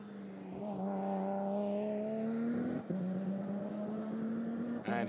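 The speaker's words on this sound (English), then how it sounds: "So as that beautiful car goes through the chicane." A GT4 race car at Spa-Francorchamps powers through the chicane, its engine note holding a steady loud drone that dips briefly mid-pass and rises again, with no talk.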